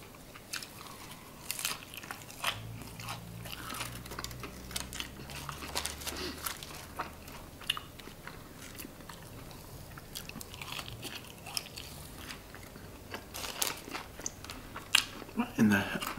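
Biting and chewing through seasoned fries and barbecue boneless wings from Wing Stop, close up, with repeated soft crunches and wet mastication in an irregular rhythm, and no talking.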